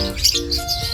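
Pet birds that have been released give a few brief close chirps and tweets within a second, clear and fairly loud over a low background hum, with no talking.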